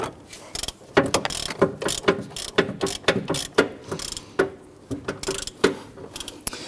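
A hand ratchet clicks in quick, uneven bursts while tightening a transmission mount bolt on a 2011-2015 Kia Sorento 2.4L four-cylinder, the close, sharp clicks repeating steadily for several seconds.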